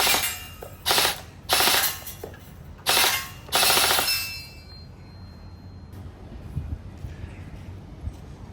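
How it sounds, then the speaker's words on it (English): Gel blaster shots striking a metal target stand, heard as four loud bursts of rapid metallic clanging and rattling, each about half a second long, followed by a quieter stretch with faint scattered ticks. "you can hear the metal sound from the target stand"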